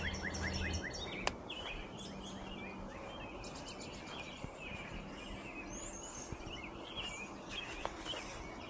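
Songbirds singing outdoors, repeated chirps and trills scattered across the scene at a faint, distant level over a soft background hum, with no talking.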